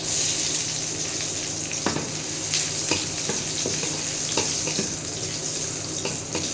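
Dried red chillies and chopped garlic fry in hot oil, giving a constant close sizzle broken by a series of scraping, clinking stirs against the pan.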